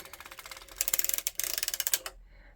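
A circular sock knitting machine being cranked round, giving a rapid run of ratcheting mechanical clicks that speed up and grow louder partway through, then stop abruptly, leaving near silence.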